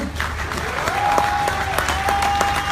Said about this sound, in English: Can you clap your hands for Francis Miguel?